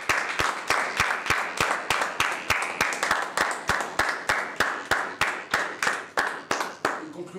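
A church congregation claps in unison to acclaim the Lord, a steady rhythm of sharp, loud handclaps close by, roughly three per second, continuing throughout with faint voices underneath.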